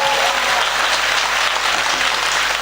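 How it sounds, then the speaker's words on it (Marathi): An audience at a school gathering claps steadily and densely throughout, a loud, continuous wash of applause. "अरे टाळ्या वाज नाही जोरात वाजायचे असेल तर वाजवा"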